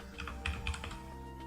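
Quick bursts of clicking keystrokes on a computer keyboard, close and soft, a handful of taps in an irregular rhythm over a low steady background hum.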